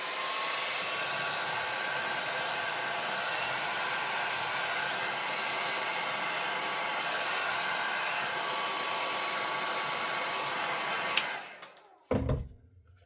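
A heat tool blows steadily and loudly while warming paint on a craft project, a constant whooshing roar that stops abruptly near the end, followed by a brief clatter.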